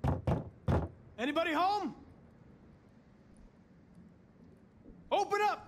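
Three sharp, close knocks on a door in the video game Detroit: Become Human, followed by voices talking and then a quiet stretch.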